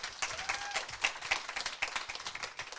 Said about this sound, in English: Let's give a round of applause to both Natasha and Brian.